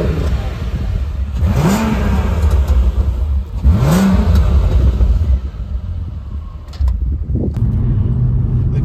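A Volkswagen Golf R32 driving on the road, its engine revving up twice in rising sweeps before settling to a steady cruising rumble, loud and close with no talk.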